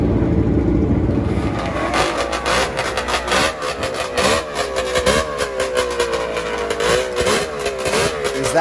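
A 1000cc Rotax triple two-stroke snowmobile engine on a drag racing machine revs hard and rapidly, rising and falling in repeated sharp bursts, loud and close with no talking.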